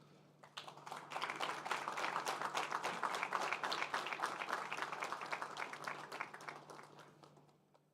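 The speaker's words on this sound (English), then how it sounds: "round of applause" Audience applause at an exchange ceremony during a regional committee meeting of the ISA for Latin America and the Caribbean, a sustained crowd of many hands clapping that swells quickly, holds steady for several seconds, then tapers off.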